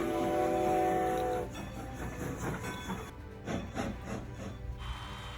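A train sounds a sustained horn blast, then rumbles along with clattering wheels and creaking carriages, moderately loud with no voices.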